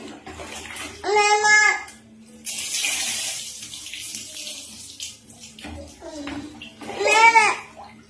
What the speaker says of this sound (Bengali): ধরে জল ঢালো।